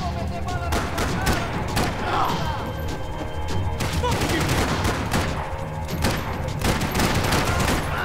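Gunfire in Max Payne 3, with dense overlapping shots and impacts crashing continuously through the whole stretch, loud and busy, with brief speech mixed in.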